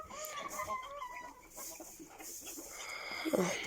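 Chicks and hens cluck while pecking at their feed just after being let out, a steady run of close, overlapping clucks with scattered louder calls.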